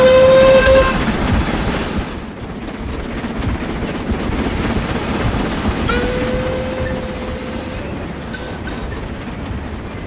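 A preserved Caledonian Railway 812 class 0-6-0 steam locomotive chuffs steadily with rumbling wheels, and a high whistle sounds briefly at the start and again later, mid-distance and fairly loud.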